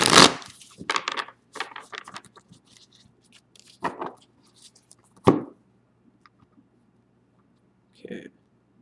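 Tarot cards are shuffled by hand in a quiet room, with several short papery riffles and slaps at irregular intervals, close and fairly crisp, separated by pauses.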